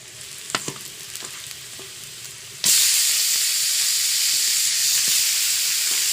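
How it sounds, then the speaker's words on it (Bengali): Raw chicken pieces are dropped into fried-down spice paste in a pan for chicken bhuna khichuri. A few light clinks give way to a sudden loud, sustained sizzle and hiss that stays strong to the end. "তো আমি এখন মাংসগুলো দিয়ে দেব।"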